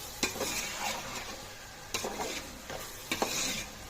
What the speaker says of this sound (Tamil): நல்லா கிளறி கொஞ்சம் ஃபாஸ்ட் வச்சு